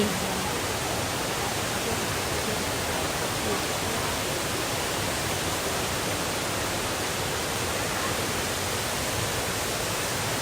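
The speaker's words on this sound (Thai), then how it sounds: "มาเที่ยวน้ำตกเด้อค่ะเด้อ" A constant, dense roar of rushing water fills everything, steady and unbroken like a nearby waterfall.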